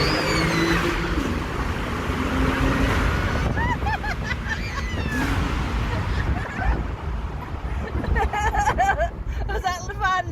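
A Porsche 911 997 Carrera S Cabriolet drives fast through a tunnel, its engine roar and road noise booming continuously under excited voices of children and an adult talking over it.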